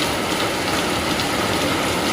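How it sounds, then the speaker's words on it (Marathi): Heavy rain in Malvan, Konkan, a dense, even hiss of downpour, loud and constant across the short clip with no voices. "आज भरपूर पाऊस आहे."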